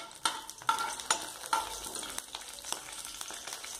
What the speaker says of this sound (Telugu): ఇవి ఓన్లీ పచ్చిమిర్చి ఆనియన్స్, మనకేం ఎక్కువగా ఫ్రై అవసరం లేదు.